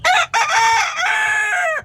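A rooster crows loudly and close by, one full cock-a-doodle-doo with a brief break near the start, heard on its own.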